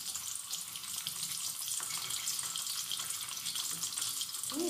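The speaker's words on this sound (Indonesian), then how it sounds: "Sambil goreng jengkol," Jengkol beans fry in hot oil with a steady, even sizzle and fine crackle that carries through the whole stretch, moderately quiet and close, with no talking.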